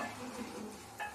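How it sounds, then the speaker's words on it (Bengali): Pea-stuffed kochuri frying in hot oil in a pot, a soft steady sizzle at close range with a brief clink of a utensil near the end, quiet and without speech. "আর আমি এখানে ফুলকো ফুলকো কচুরি ভাজছি।"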